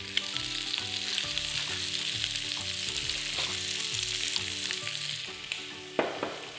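Shrimp frying in olive oil in a pan, a loud, close, continuous sizzle with crackling and occasional stirring clatter, heard alone.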